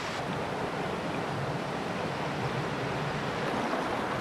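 Warm river water from a hot spring in the Philippines flows and bubbles in a steady, loud broadband rush, with wind noise buffeting the microphone throughout and no talking.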